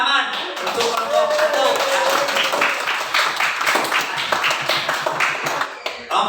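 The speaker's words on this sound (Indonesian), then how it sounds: "Ya, tepuk tangan untuk kelompok" Applause from a classroom audience of students for a student group, dense clapping throughout with overlapping voices and chatter mixed in.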